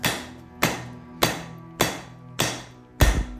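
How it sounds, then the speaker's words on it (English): Hammer blows striking the edges of a katana blade while it is beveled and thinned on an anvil, six sharp ringing strikes at a steady, unhurried pace, each fading with a short metallic ring. "I'm angling the hammer as I do those edges."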